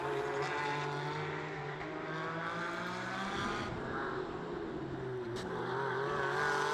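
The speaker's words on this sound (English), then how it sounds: "this is the first of the GTB cars, the tip-top Porsche of Arthur Peters and Kenny Heremans." A Porsche GTB-class race car in the Belcar endurance series runs on a circuit, its engine droning steadily with shifting harmonic pitch throughout, with no talk.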